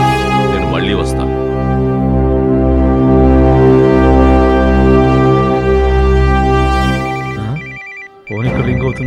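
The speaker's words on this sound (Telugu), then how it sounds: "ఫోన్ ఇక్కడ రింగ్ అవుతుంది ఏంటి?" A phone ringtone plays loudly and steadily for several seconds in a film scene, then breaks off as voices briefly start before it resumes.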